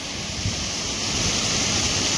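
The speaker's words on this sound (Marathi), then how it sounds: "छोट्या छोट्या वॉटरफॉल वाहत आहे तिकडं" Small monsoon-swollen waterfalls and dam water in Ratnagiri, Konkan, rush as a steady distant roar, mixed with wind buffeting the microphone, unbroken and even throughout.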